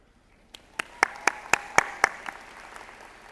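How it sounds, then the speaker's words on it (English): A handful of sharp, distinct claps ring out at a valedictorian ceremony, about eight spaced beats rising then fading, sparse and fairly quiet, like a small scattered group rather than a full crowd. "a wonderful lady who I think everyone should applaud for"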